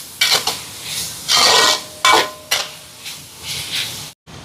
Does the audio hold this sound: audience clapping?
no